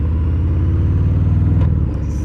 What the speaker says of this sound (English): Chopper. Look at that bike.